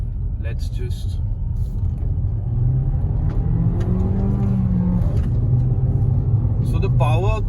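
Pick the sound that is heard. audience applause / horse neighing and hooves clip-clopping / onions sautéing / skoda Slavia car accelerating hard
skoda Slavia car accelerating hard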